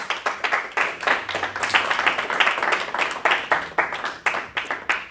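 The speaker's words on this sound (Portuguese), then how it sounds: "Salva de palmas para o Senhor." A church congregation claps in a steady, lively rhythm, many hands striking together loudly and close for several seconds, with no voices rising above the applause.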